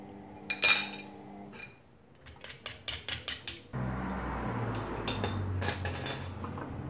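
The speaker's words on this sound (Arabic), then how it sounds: "وغادي نمعس داك التوم ديالي، اما معسو اما حكوه كما بغيتو" Garlic is crushed in a kitchen with a run of sharp, rhythmic knocks and clinks of a tool on a hard surface, close and fairly loud, followed by softer grinding scrapes.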